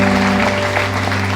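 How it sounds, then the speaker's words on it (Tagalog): A church congregation at an Easter resurrection service applauds loudly and continuously, the thick clapping layered over steady sustained tones from instruments playing beneath. "Pwede bang malakas na palakpak para sa Kanya?"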